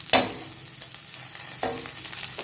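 Cumin seeds dropped into a hot pan for green masala ghee rice, with sharp bursts of spattering sizzle and a couple of spoon scrapes, near and fairly loud, with no voices.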